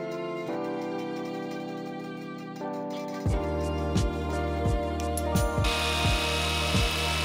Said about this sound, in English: We need to drill all of the holes out in the case.